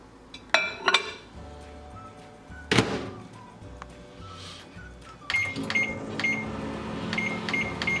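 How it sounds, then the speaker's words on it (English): Clunks and clinks of a microwave door and buttons, then beeps, followed by the low hum of the oven running with a beauty blender inside, with repeated electronic tones. "So this will be going straight into the microwave."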